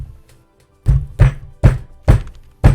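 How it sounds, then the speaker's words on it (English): Five heavy, close thuds of a fist pounding on a door in an abandoned building, spaced unevenly after a brief quiet start, loud and alone. "banging on the door."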